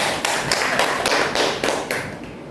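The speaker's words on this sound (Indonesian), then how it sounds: "Tepuk tangan buat kelompok visual" Students in a junior high school classroom clap together in a rhythmic pattern for a student group, with loud, evenly spaced bursts of claps repeating close by.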